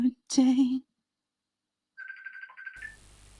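A phone ringtone plays a short electronic melodic ring after a sung phrase ends, with a brief gap of silence between, then background noise picks up.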